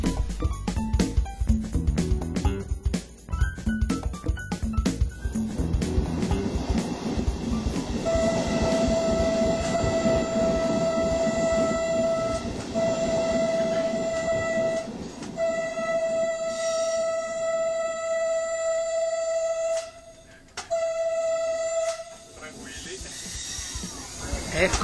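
Diesel locomotive of the D 445 class passing by on a rural Italian line in 1992, a loud sustained rumble and rolling wagon noise with a steady high tonal whine and horn-like tones building in the middle before fading.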